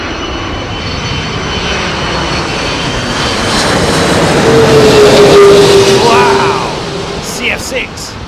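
An airliner with GE CF6 engines at Heathrow Airport in gusty storm weather, a loud broad engine roar swelling and fading as it passes, with a steady tone and wind noise throughout.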